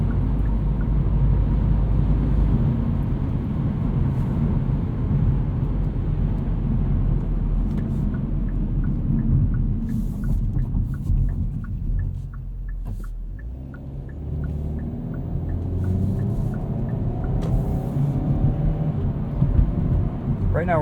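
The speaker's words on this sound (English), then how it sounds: "Right now we're just driving around in normal mode. It's quiet, the shifts are smooth, the ride quality is well damped." Interior of a 2021 Hyundai Veloster N with dual-clutch transmission cruising at night in normal mode, a steady low road and engine rumble with tire noise running throughout at moderate level, no talk.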